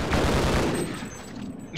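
Automated gun turrets in the Half-Life video game fire a dense, continuous burst of rapid gunfire for nearly two seconds, loud and close, tapering slightly before a final sharp crack.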